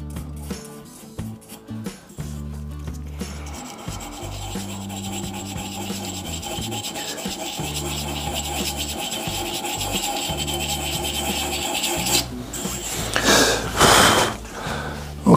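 Sandpaper sanding a holographic shaving brush blank, a continuous close rubbing rasp that builds in intensity and ends in a few quicker, harsher strokes.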